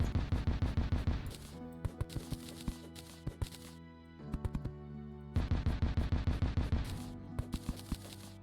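Turrets fire in Terraria Calamity Revengeance mode as rapid bursts of crisp, evenly spaced gunshot-like pops. Loud volleys alternate with sparser single shots over a steady tonal game backdrop.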